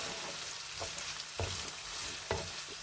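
Stirring a frying keema and turkey lasagna-style mixture in a pan, with a steady sizzle and a few distinct scraping strokes of a spoon close by, without any speech.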